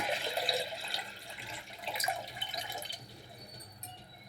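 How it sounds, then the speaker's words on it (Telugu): Water poured into a pot for broccoli corn soup, a light splashing trickle with drips, close and faint, easing off toward the end with no talk. "ఒక గిన్నె పెట్టుకొని దానిలో నీళ్ళు వేసుకోవాలి."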